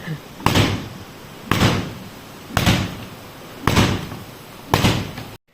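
A wooden cot is beaten to knock out dust, giving five loud, evenly spaced slams about a second apart, each a sharp whack with a brief rumbling tail, with no talking between them.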